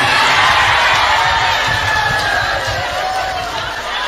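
A crowd claps and cheers steadily, a dense wash of applause that fades slightly toward the end.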